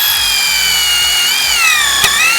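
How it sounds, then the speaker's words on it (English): A drill press bores a larger hole with a high, steady whine that shifts pitch as the bit cuts, continuous and close, with a brief knock near the end. "Now let's drill ourselves some holes, bigger holes"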